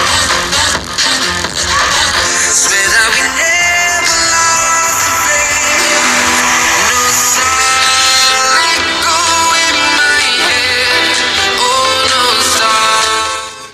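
Music played through the stereo speakers of a Samsung Galaxy A25 phone, a full bright mix heard continuously and fairly loud for about fourteen seconds with no talking.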